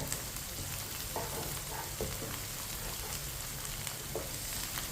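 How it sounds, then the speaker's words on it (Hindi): Finely chopped green chillies fry with lightly browned onions in a pan, giving a steady dense sizzle with occasional faint stirring clicks throughout. "सब्ज मिर्च को 2 मिनट के लिए पका लेते हैं।"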